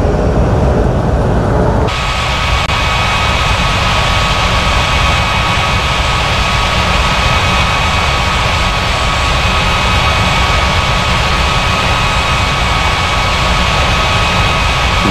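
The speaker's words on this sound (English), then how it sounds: "8849er ready for takeoff runway 18." A Germania airliner at Hamburg accelerates down runway 18 for takeoff, its jet engines roaring loud, broad and steady after a sudden swell near the start, holding close and continuous.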